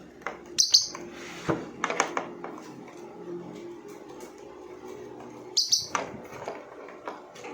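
An African lovebird gives sharp, high chirps in two short bursts a few seconds apart, close and fairly quiet, with faint rustling and small clicks between calls.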